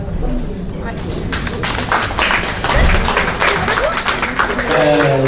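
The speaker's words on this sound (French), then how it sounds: "Applaudissez pour elle" Applause at a community event in Valenton: after a quieter opening second, a crowd breaks into clapping that grows fuller and stays steady to the end, with a voice rising near the close.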